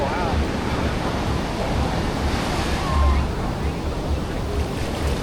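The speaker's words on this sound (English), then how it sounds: "Oh my goodness, this water's coming in now." Ocean surf washing up a beach on a windy day, a steady broadband rush of waves with a swell near the middle, close and loud with wind buffeting the microphone throughout.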